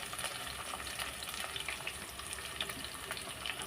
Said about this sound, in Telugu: చాలా చక్కగా మంచిగా ఫ్రై కావాలండి ఇది.